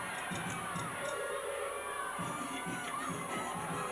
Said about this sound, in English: the Georgia crowd is going wild every time they nail a routine over there